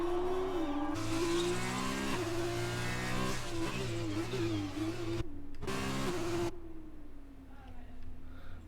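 A Formula 2 race car engine on track in the F1 2020 video game, a loud, steady high-pitched whine rising and falling through gear changes, cutting out briefly, then easing to a lower drone as it slows.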